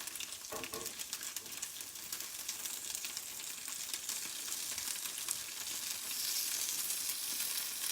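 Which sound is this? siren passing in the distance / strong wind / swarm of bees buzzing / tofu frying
tofu frying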